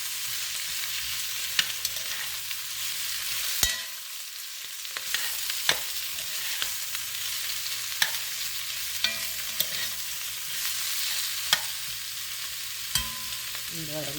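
Cabbage tossed in oil in a hot pan for cabbage mixed greens, a steady close sizzle with sharp spoon scrapes and taps against the pan recurring every second or two.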